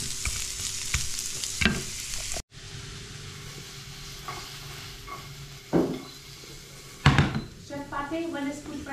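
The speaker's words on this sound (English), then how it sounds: "while you are frying your carrots, make sure to turn down the heat for the beef." Beef and carrots sizzle steadily in a hot pan, a continuous frying hiss with occasional scrapes and clinks of a utensil stirring against the metal, close by and fairly loud, briefly cut off partway through.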